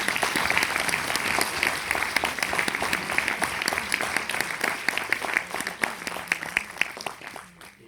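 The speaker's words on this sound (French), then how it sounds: "Et ça mériterait peut-être un applaudissement." Dense audience applause at a film screening and debate, a steady wash of many hands clapping that holds for several seconds before tapering off at the end.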